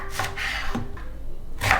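A knife chops an onion on a wooden board, three sharp, close knocks spaced unevenly over a couple of seconds with no talking.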